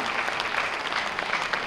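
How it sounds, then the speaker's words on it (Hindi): Loud, steady applause from an audience fills a hall at a national film awards ceremony, unbroken throughout with no voices over it. "जोरदार तालियों का अभिनंदन करते हैं निर्माता, निर्देशक और संपादक रीमा दास का."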